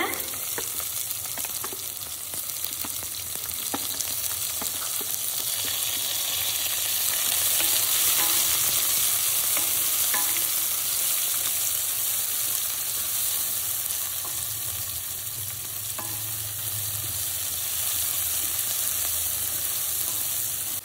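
Chopped onions fry in oil on a low flame for a meal maker gravy, a steady broadband sizzle with occasional soft stirring scrapes, close and continuous with no talking.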